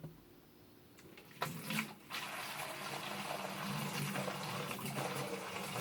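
Spring water pours into a 5-gallon container as non-potable storage, starting with a few knocks and handling clunks, then a steady, hissing gush that fills the rest, close by with no speech.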